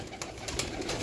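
Pigeons in a breeder's flock coo softly and continuously, low murmuring calls layered with faint rustling, no voices present.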